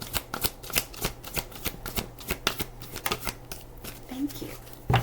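Tarot cards being shuffled during an angel card reading, a quick series of crisp riffling bursts close to the mic, with a voice speaking briefly near the end.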